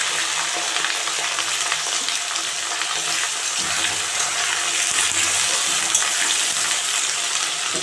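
Beans and prawns fry in hot mustard oil in a wok with fried garlic, giving a loud, continuous, close sizzle throughout with occasional stirring clatter.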